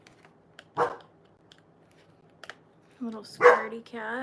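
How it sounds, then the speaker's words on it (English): A dog lets out one sharp bark, followed by a short stretch of quiet and then a person speaking. "Mine just barks at strangers."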